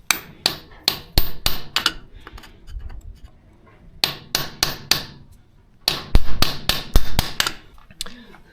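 Sharp metal hammer blows strike a welded-on piece to knock loose a seized tractor brake part, coming in quick clusters of four to six hits separated by brief pauses, loud and close.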